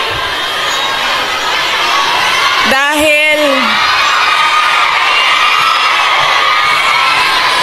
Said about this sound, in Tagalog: Dahil kayo ay sumisigaw ng Duterte, suspended na kayo lahat bukas